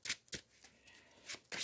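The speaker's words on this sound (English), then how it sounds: "We will give the villain deck a shuffle." Villain card deck from Marvel Champions being shuffled by hand, a few quick riffling bursts with short pauses between them, faint and close with no talking.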